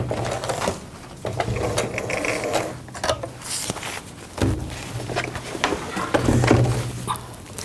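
A sewing machine stitches through plastic with a busy mechanical whir and rattle, rising and falling in uneven runs, close by with occasional clunks and handling noises.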